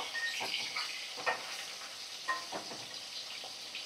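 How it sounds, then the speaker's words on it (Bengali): Four pieces of katla fish fry in a pan of oil over high flame, a steady close sizzle punctuated by several sharp spits and crackles, with no talking. "একদম হাই ফ্লেমে রেখে এখন মাছগুলোকে আমি ভাজা করছি"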